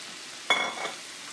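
Mushrooms hit a hot pan for pasta primavera and give a sudden burst of sizzling that quickly settles into a softer frying hiss, close and alone.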